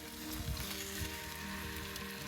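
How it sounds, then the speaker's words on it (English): A pork chop sizzling at the edge of a campfire at a backcountry campsite on North River Lake in Algonquin, with a continuous close crackling sizzle and no voices. "Just set it off to the side and it's been still sizzling away"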